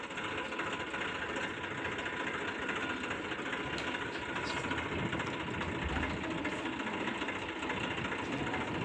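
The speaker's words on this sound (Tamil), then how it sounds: "ஸ்டார்ட் பண்ணி ஓட விட்டாச்சு." A vehicle engine runs steadily after being started, a continuous mid-pitched hum with a faint rattle, holding at an even level throughout with no pauses.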